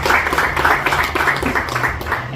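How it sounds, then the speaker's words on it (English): An audience at the Shabab Today program breaks into steady applause, dense overlapping hand claps close and loud with no pause. "Let us give him a round of applause for coming."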